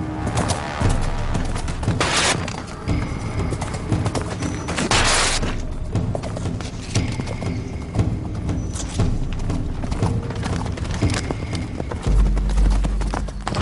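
A horse galloping flat out in a timed race against a camel, its hooves pounding in a loud, rapid, continuous clip-clop with booming impacts, close and dominant.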